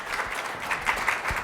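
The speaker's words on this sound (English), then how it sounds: "It was the Phillips people in the room that started clapping first" Audience in a room at a university energy-week keynote breaks into brief applause, a short burst of scattered clapping at moderate distance with no talk over it.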